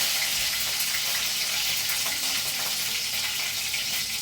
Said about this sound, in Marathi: इथे आपण कढीपत्ता चांगला फ्राय होऊ द्यायचा.